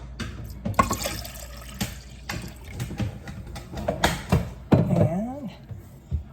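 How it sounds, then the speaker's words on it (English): Water is poured over chicken in a crockpot, heard as uneven splashes and trickles in short bursts with scattered drips and clatter from the pot between them. "And then, put some water over it."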